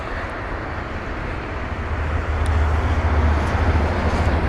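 An Airbus A320neo-family jet at London Heathrow gives off a broad, steady roar of engine noise, with a deep low rumble swelling louder partway through and continuing unbroken.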